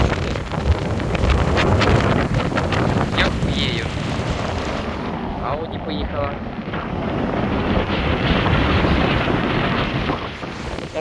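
Heavy wind buffets the microphone in a continuous roaring rumble, with a person speaking faintly underneath the gusts.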